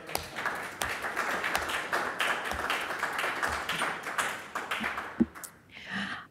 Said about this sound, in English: let's give this room a round of applause